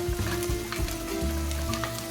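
Onions with cinnamon and spices frying in ghee and oil for a biryani, a close, even sizzle with faint crackling pops, no talking.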